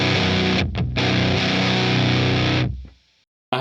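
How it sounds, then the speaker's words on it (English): Electric guitar driven through a Fuzzrocious custom distortion pedal, thick buzzing chords with a brief break and restrike, sustaining loudly then choking off into near silence before a sudden new attack. "Then it goes into the distortion of the exact portion of the Fuzzrocious custom pedal."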